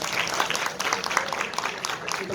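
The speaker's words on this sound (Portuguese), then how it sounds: "Uma salva de palmas, por favor." An audience at an education conference applauds, a dense steady patter of clapping from many hands all the way through, fairly loud and close.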